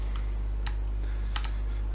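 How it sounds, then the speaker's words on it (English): Typing on a computer keyboard: a few scattered, faint key clicks, a lone tap and then a quick pair, over a quiet electrical hum, with nobody speaking. "Sorry, you can't see where I'm typing."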